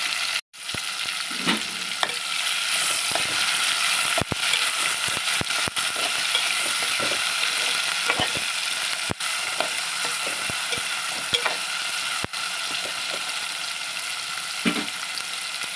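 Soft tomatoes sizzle steadily in a pan for a prawn and ridge gourd curry while a spoon scrapes and stirs at irregular intervals, giving sharp clicks and knocks over the continuous frying hiss.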